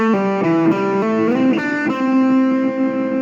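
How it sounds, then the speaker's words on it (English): Distorted electric guitar rings continuously while scratchy string noise from unmuted strings buzzes underneath, notes shifting and smearing together in a steady loud drone. "you can hear the string noise kicking inside there"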